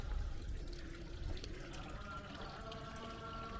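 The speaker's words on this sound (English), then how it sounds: "There's the water." Water running steadily at the Gekkeikan sake museum in Kyoto, a continuous close splashing flow with no break across the short stretch.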